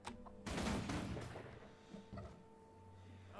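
Guild Wars 2 gunfire, a dense burst of shots hitting close and loud, then tapering into scattered fainter reports and a low rumble; no voices.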